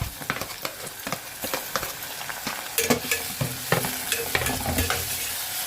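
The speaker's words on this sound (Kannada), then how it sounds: "ಹಸಿಮೆಣಸಿನ್ಕಾಯಿ ಹಾಕೊಂಡ್ಮೇಲೆ ಸ್ವಲ್ಪ ಒಂದು 2 ಟೊಮೊಟೊ ಹಾಕೊತಾ ಇದ್ದೀನಿ" Two small sour tomatoes fry in a pan with green chillies for tomato bath, sizzling steadily while a spoon scrapes and stirs in quick, irregular strokes, close by.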